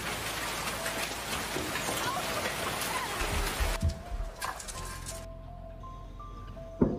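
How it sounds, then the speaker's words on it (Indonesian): Heavy rain pours down in a dense, steady hiss that drops away abruptly midway, leaving a quieter ambience with faint tones and scattered drips. "Hari itu hujan sangat lebat."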